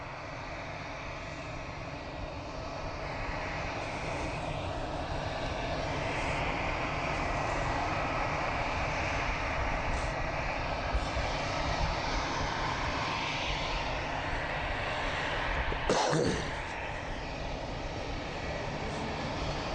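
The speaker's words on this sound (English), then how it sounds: "aircraft will be taxiing right past us in front here and then departing runway 23 on its flight over to Paris" Jet airliner engines at Southend Airport as the aircraft taxis toward runway 23, a steady loud roar held throughout with a brief louder swell near the end, no talk.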